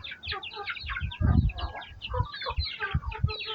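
Chickens cluck and chatter close by in short, irregular bursts, with a brief louder flurry partway through and soft background noise.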